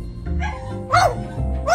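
Molly the bird imitates a dog's bark, giving a few short, bright barking calls close by with a low background hum underneath.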